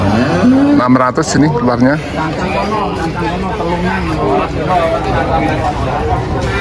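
Jumbo and super-sized cattle low repeatedly at the Grabag cattle market. Loud moos rise near the start over a busy crowd murmur, and people talk close by throughout.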